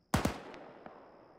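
Two quick gunshots pop close together in a military video game, followed by fainter single shots and a lingering echoing tail.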